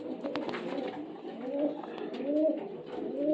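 Staropolskie pigeons in a loft give soft, continuous cooing with rising and falling calls, fairly close and steady throughout.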